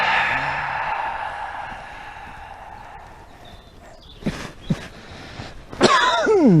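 Two short, sharp coughs break a quiet stretch, then a louder, raspy cough follows with a throaty, voiced edge, close by.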